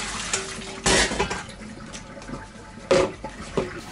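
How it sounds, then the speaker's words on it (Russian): Thawed broccoli and its water being poured from a container into a colander in a kitchen, giving short splashing, pouring bursts at intervals, close and moderately loud. "Теперь выливаем все это на дуршлаг."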